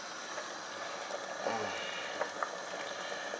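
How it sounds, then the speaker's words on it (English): Peppery Ghanaian man soup (barima nkwan) boiling steadily in a pot, a continuous bubbling hiss with a few louder pops, close and alone without speech. "I'm prepared to let this boil for quite a while"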